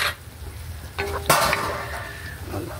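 Chicken feet adobo is stirred in a sizzling pan, a close frying hiss broken by a sharp scrape and clatter of the utensil against the pan about halfway through.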